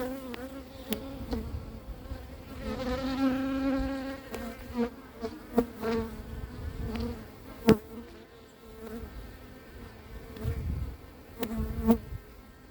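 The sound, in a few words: honeybees buzzing around beekeeper hiving a swarm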